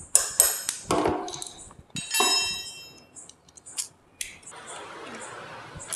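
Metal tool clinks and ratchet taps on a Pulsar 150 motorcycle while disc brake pad bolts are tightened, a series of sharp close pings and knocks with brief pauses and a softer rustle near the end.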